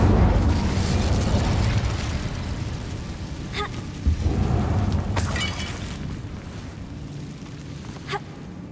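In the Hogwarts Legacy video game, an Incendio fire spell blasts with a loud booming burst, then a long rumbling roar that slowly fades, with a few sharp crackles along the way.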